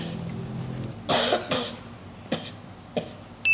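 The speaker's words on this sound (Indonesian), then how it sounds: "Batuk deh" Five short, sharp coughs from one person close by, spaced unevenly over a few seconds with quiet between them.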